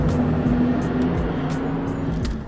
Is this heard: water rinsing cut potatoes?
no